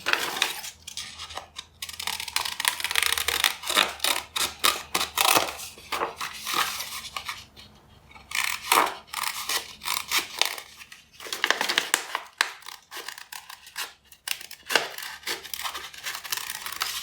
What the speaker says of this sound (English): So do your best to cut out neatly on the lines.